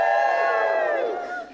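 A church congregation at a Student Sunday service breaks into a loud, close cheer of welcome, many voices whooping together in a sustained burst that trails off after about a second and a half.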